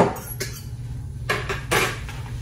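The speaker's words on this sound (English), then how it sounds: "now I'm just gonna put the pasta and the cheese and we're just gonna stir it up" Pasta and cheese stirred together for homemade mac and cheese, a few sharp clanks and scrapes of a utensil against a metal pot, close and fairly loud, separated by brief pauses, with no talk.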